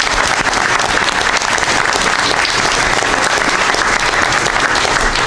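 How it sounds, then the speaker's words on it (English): Dense, loud applause fills a board of education meeting room, a continuous wash of many hands clapping at once, steady and unbroken throughout with faint crowd murmur beneath. "Give yourself a round of applause"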